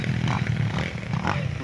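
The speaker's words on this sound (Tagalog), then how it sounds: "Yung nagmumotor na malaking motor." A big motorcycle rides past a rural farm lot beside rice paddies, its engine a steady rough drone with slight surges, fairly close and continuous throughout.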